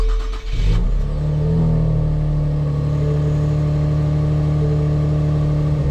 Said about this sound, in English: Listen to that twin-turbo V6 come to life.